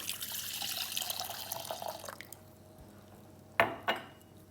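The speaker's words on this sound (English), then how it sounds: "First step is just pour the milk." Milk pours into a steel bowl in a steady liquid stream for about two seconds, then tapers off, followed by two short splashy clinks near the end.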